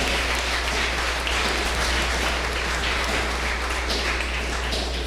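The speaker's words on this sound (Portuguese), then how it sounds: "é tão bom quando a igreja aplaude a palavra de Deus" A church congregation applauds steadily, a dense, even wash of many hands clapping at constant loudness from start to end, with a low hum beneath.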